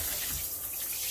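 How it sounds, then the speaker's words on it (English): Water runs steadily from a newly installed shower at home, a continuous close hiss of spray with no pause and no voices. "I'm going to get it turned on, test it. I'll test the hot water, test the thermostatic."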